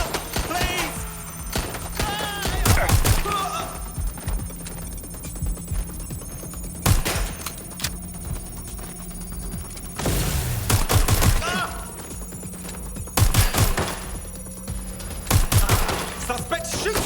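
Gunfire rings out in Watch Dogs: Legion in several short rapid bursts, loud and close, spread across the scene with game sound and voices talking in between.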